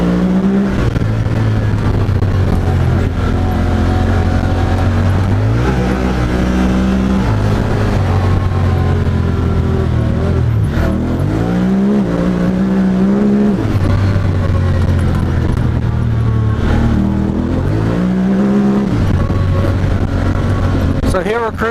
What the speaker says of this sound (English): So here we're cruising in auto sport, but right here I can downshift the gear manually